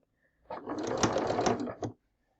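Sewing machine stitching a seam on a quilt block, a close, fast rattling run of about a second and a half that stops, then one short burst.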